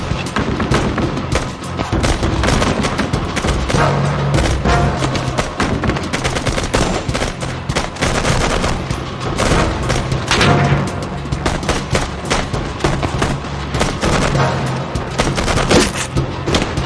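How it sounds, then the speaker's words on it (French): Heavy enemy gunfire in a special forces sniper battle, dense rapid automatic bursts and shots rattling nonstop at close range for the whole stretch, loud and unbroken with no talking. "Les deux sauveteurs se retrouvent au milieu des tirs ennemis."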